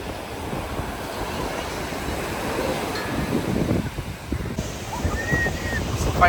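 Waves and wind at RK Beach, a steady rushing surf with continuous wind noise buffeting the microphone, loud and close throughout.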